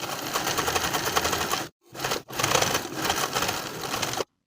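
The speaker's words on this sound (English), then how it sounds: "edge stitch in place to finish the hem" A sewing machine edge-stitches a folded fabric hem in a fast, steady whir, pausing briefly once before running on and then stopping abruptly.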